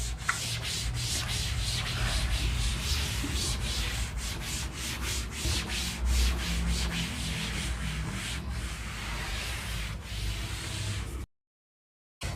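A board is erased by rubbing in a classroom setting, a dense run of rapid scrubbing strokes that lasts several seconds and stops abruptly near the end, with no talking.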